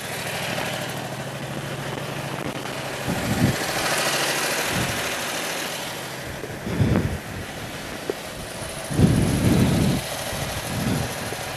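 A Predator 670cc engine ticks over at a low, steady idle with its fuel pump switched off, a soft continuous rumble under gusty wind buffeting the microphone, with several louder thumps and bursts along the way.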